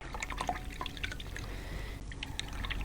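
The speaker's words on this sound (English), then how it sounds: "I'm going to just clean out my brush" A paintbrush swished and rinsed in a container of clean water during a watercolor painting session with Daniel Smith paints, giving soft continuous sloshing and dripping sounds, close up and fairly quiet, with no talk.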